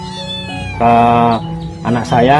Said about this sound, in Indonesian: Yang ini kucing telon jantan ini.